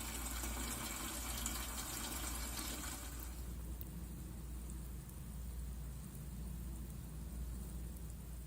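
Eggplant plants being watered outdoors, a steady soft rush of spraying water that eases slightly partway through, continuous and close, with no talk.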